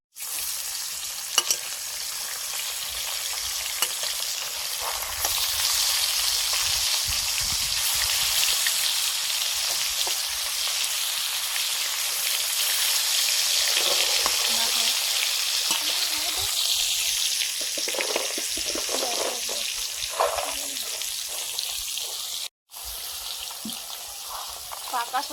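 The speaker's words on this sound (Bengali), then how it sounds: "বড়িগুলো ভেজে নিচ্ছি। এগুলো মুসুর ডালের বড়ি।" Masoor dal bori, small sun-dried lentil dumplings, frying in hot oil, a steady crackling sizzle with stirring scrapes that carries on throughout, with a voice speaking faintly at times.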